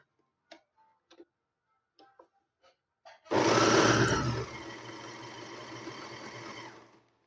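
A sewing machine stitches fabric offcuts into pocket squares, starting after a few light clicks and handling sounds, loud and close at first, then settling into a steady fast mechanical whir with rhythmic ticking until it stops.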